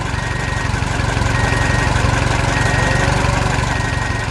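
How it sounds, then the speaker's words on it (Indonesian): A tractor engine runs steadily and loudly throughout, a constant low rumble with a mechanical throb and no talking. "Traktor besar membawa trailer penuh pohon."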